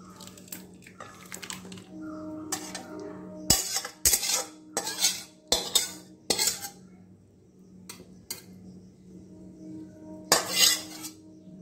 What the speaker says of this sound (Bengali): এবার আমি একটা পাত্রের মধ্যে ঢেলে নিচ্ছি